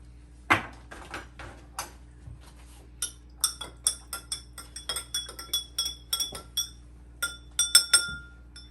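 A spoon clinks repeatedly against a glass while stirring a molecular cocktail with edible gold dust, bright irregular chimes in quick bursts, close and clear over a quiet background.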